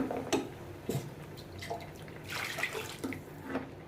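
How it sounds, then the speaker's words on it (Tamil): Water trickling and splashing into a pot of mutton kola urundai curry in short bursts, with light clinks and drips, fairly close and moderately quiet. "கொஞ்சம் தண்ணி ஊற்றிக்கலாம்"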